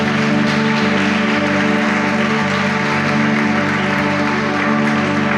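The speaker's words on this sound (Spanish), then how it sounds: "Dale un fuerte aplauso al Señor." Congregation claps for the Lord during a church service, a loud continuous wash of applause under a steady sustained musical drone, with a few sharper taps standing out.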